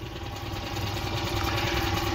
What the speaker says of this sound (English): So as you can hear, I've started my engine because there is literally no wind here